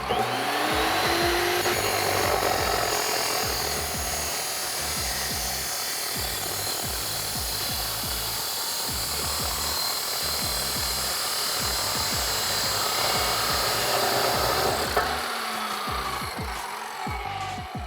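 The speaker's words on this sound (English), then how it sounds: "Let's head over to the table saw" A table saw cuts through a Flowmaster exhaust pipe for a 2019-2020 RAM 1500 5.7L, a loud continuous grinding, rasping whine that holds steady for the whole stretch and then slows at the end.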